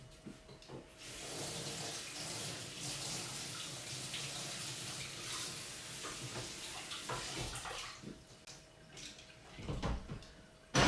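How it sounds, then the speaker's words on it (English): Tap water runs steadily into a sink while a cheese grater is rinsed under it, a continuous close splashing hiss with a few knocks and clatters toward the end. "Rinse grater."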